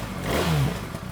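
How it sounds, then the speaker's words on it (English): A BMW R1300 GS motorcycle engine fires and revs briefly, a short low rumbling blip that swells and then settles into a rough idle, close by. "It has got an absolutely beautiful engine sound and exhaust sound."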